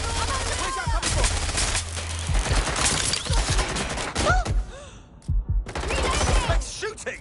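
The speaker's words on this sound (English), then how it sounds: "That's shooting!" Gunfire in a PS4 shooter game: repeated loud, sharp shots and rapid bursts crackle across several seconds with brief lulls, mixed with gasps and grunts from a player close to the mic.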